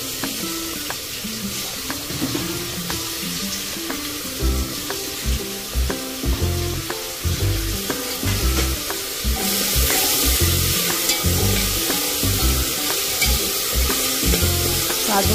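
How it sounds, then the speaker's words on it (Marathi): Peanuts fry in a pan for masala rice and are stirred, with loud, close sizzling broken by rhythmic scraping strokes of the spoon throughout, and no voices. "शेंगदाणे टाकते मी."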